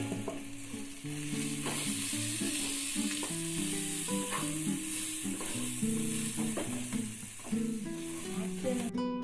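Tomato kurma fries in a pan while spices such as garam masala, turmeric and salt are stirred in, giving a constant close sizzle with scraping stirring strokes throughout, under faint background music.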